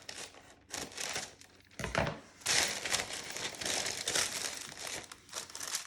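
Paper liner crinkles and crackles as it is folded into a wooden soap mold, in a near, continuous stretch of crisp rustling with brief pauses.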